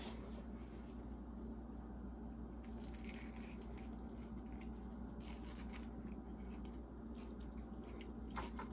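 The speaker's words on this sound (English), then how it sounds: "So now let me taste my steak sandwich." Close biting and chewing of a homemade steak sandwich with hot jalapeño habanero jack cheese: soft, moist crunches and squishy mastication repeat steadily through the whole stretch, with no talking.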